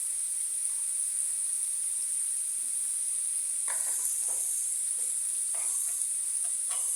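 Spice paste sizzling as it fries in a pan with mustard paste, a steady high hiss running throughout with a few soft stirring scrapes toward the end, no talking.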